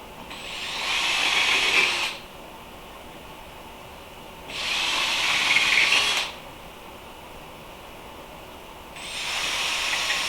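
A power drill whirs in three separate bursts of about two seconds each while assembling an Incra router table, with quiet pauses between, fairly close and steady in pitch.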